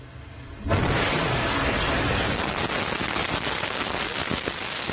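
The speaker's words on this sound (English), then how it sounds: "Lift off the Antares NG-19 launch vehicle" Lift-off of an Antares NG-19 rocket, a sudden broadband roar that bursts in after a quiet moment and then holds as a loud, crackling, continuous blast.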